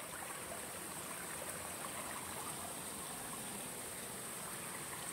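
Steady broadband rush of flowing water from a large creek near Burong Falls, San Jose del Monte, Bulacan, running continuously nearby, with no voices.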